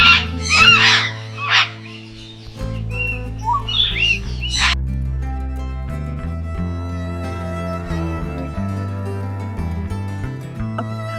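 Loud bird calls ring out near the start at Dehiwala Zoo, a few bright chirps and whistles, then fade as steady background music carries on.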